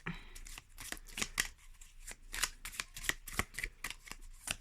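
Tarot de Marseille cards riffle and slap together in quick, crisp bursts, a close, rhythmic shuffling with short pauses between flurries, quiet and without speech.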